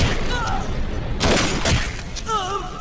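A single loud gunshot bang in a dramatic film scene, a sharp broadband burst that rings out over a tense background score with bird-like tonal whistles, standing out clearly from the surrounding sound.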